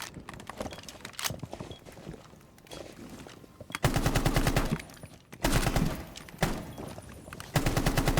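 Automatic gunfire from the Rainbow Six Siege video game, loud close bursts of rapid shots in several sustained volleys with short pauses between, over quieter in-game footsteps and movement.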